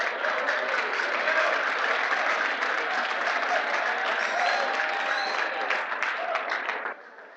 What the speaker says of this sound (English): Let's give the lady a round of applause.